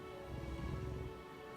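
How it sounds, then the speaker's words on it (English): Steady rain patters in the video game Jurassic World Evolution, a soft, even wash of drops with a faint musical tone underneath. "Oh, it's raining that side."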